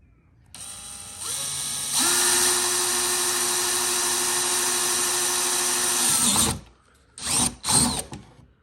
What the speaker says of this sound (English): take a 3/4 inch drill bit and drill a hole right there in that spot where you made your mark